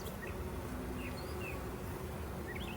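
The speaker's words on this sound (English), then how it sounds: "This bee's just flying around with pollen on his legs." Honeybees buzz steadily around an open hive during a spring inspection, a continuous soft drone with faint passing flights and no talk.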